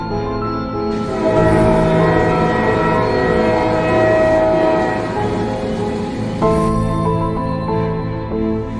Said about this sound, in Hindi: और वो देखो, ट्रेन आ भी गई है।